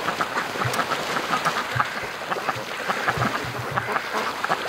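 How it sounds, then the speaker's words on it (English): Ducks on a creek chatter in a busy flock, with soft quacks and honking calls scattered steadily at moderate distance over faint outdoor background noise. "the ducks are hanging around in the creek"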